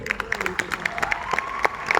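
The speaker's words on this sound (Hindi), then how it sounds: "ये प्रमोटर भाई लोगों के लिए तालियां बजाइए" An audience claps for a group of promoters at a direct-selling gathering, a loose patter of hand claps close by with a voice briefly carrying over them.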